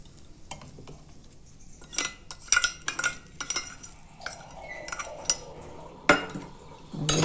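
A spoon mixes soft curd rice topped with crushed fried chillies and tempering in a dish, giving a run of scattered clinks and scrapes against the dish, with louder taps now and then and no voice.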